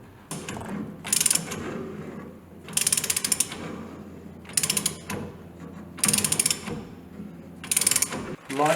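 Ratcheting clicks while fitting the steering wheel on a 1956 Chevy Bel Air, heard as five rapid bursts of mechanical clicking spaced a second or so apart, close and fairly loud.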